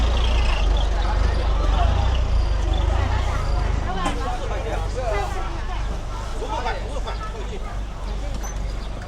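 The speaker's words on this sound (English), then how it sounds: "Refuse truck." A refuse truck idles and works on a back street in Changshu, China, a heavy low engine rumble with brief hisses and clanks, overlaid by nearby chatter.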